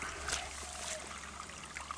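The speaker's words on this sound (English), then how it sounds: "How many litres of water we get through there?" Water trickles through a drain in a local park with a faint, steady, close-up gurgle and light splashing.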